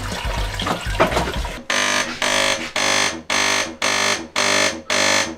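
A loud mechanical buzzing hum pulses on and off in regular bursts during a DeLonghi espresso machine rinse cycle with an abnormal noise, following a short stretch of gurgling, rumbling noise, close up.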